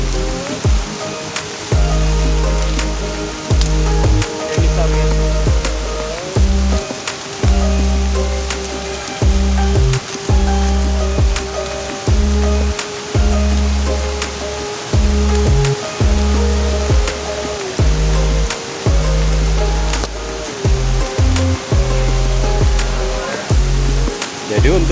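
A river near a forest waterfall, one channel split into two streams, gives a steady broadband rush of water under a pulsing low throb that carries on throughout.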